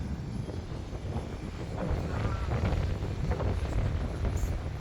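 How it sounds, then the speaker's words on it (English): Breeze buffeting a microphone outdoors in a town square in Acre, Israel, a steady low rumble that swells and gusts louder partway through. "it's a little bit windy. There's a lot of breeze"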